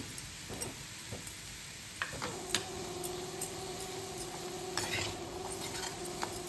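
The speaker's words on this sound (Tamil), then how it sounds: "நல்லா மிக்ஸ் பண்ணி விட்டுறலாம்." Stirring sundal of grated mango, coconut and carrot in a pan, soft scraping and occasional light clinks of a spoon against metal, quiet and close, with a steady faint background hum.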